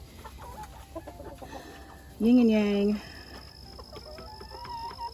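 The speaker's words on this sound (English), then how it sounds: "I've got 2 blue-laced red Wyandotte roosters as well" Two blue-laced red Wyandotte roosters, one giving a short, loud crow or squawk of under a second amid quieter background clucking and farmyard noise, with a person talking nearby.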